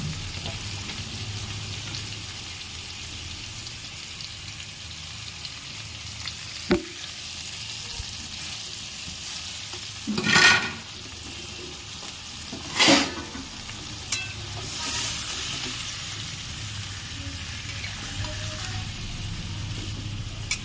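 Prawns frying in oil for a spicy Bengali prawn curry, a soft steady sizzle with a few louder stirring scrapes and clatters.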